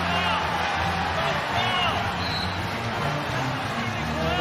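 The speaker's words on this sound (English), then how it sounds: "And the crowd is going crazy." A packed arena crowd at a college basketball game between Louisville and Syracuse roars loudly and steadily after a buzzer-beater attempt, a dense wash of cheering and babble with voices mixed in throughout.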